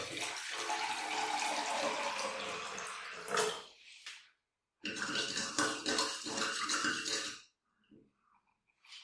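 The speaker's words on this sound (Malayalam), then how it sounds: "ഒരു പാത്രം എടുത്തിട്ട് കുറച്ച് ഉപ്പെടുത്തിട്ട് ഈ പാത്രത്തിൽ ഇടുക നിറച്ച് വെള്ളം ഒഴിച്ചു കൊടുക്കുക" Water pours into a bowl of salt in two bursts, making salt water for chapati dough, splashing close by, with a brief pause between and a few soft clinks at the end.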